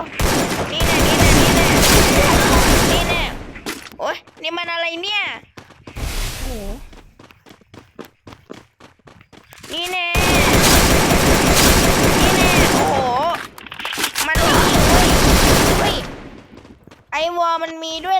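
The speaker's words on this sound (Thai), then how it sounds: "รู้สึกเหมือนว่ามีคนยิงเราอยู่" Bursts of rapid gunfire in a shooting video game, loud and sustained in two long stretches, alternating with people talking excitedly between volleys.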